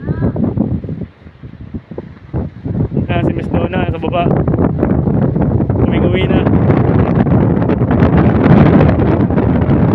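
Strong, gusting typhoon wind roars steadily and buffets the microphone, with people talking over it throughout.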